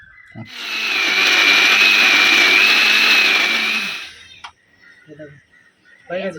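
A blender grinds coriander leaves into a paste for raw mango pani puri filling, whirring loud and steady for about three seconds before cutting off, followed by brief kitchen clatter and voices nearby.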